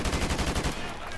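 Rapid automatic AK rifle fire in Call of Duty 4 Remastered, a fast, steady burst of loud close shots lasting under a second, then a short ringing tail.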